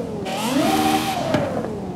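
A Lexus LC 500 fitted with an LFA engine and anti-lag drag tune in Forza Horizon 5 revs loudly, its pitch sweeping up then easing back down over about two seconds, heard alone and close.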